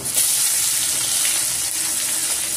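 Chopped onion hitting hot oil already crackling with curry leaves, garlic and salt gives a steady, loud, close hissing sizzle that holds evenly for the whole moment, with no voices.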